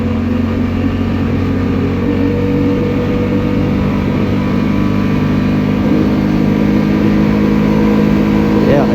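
A Honda Rincon 650 ATV in four-wheel drive cruises on a snowy, slushy road at steady speed, its engine droning loud and constant throughout, close up, with no one talking.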